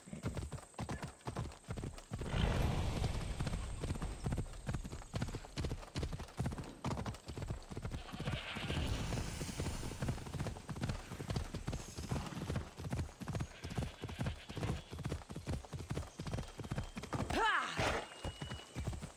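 A horse gallops under its rider in Assassin's Creed Odyssey, its hooves a fast, steady clip-clop close by and running the whole time, with a brief whinny and some faint voices mixed in.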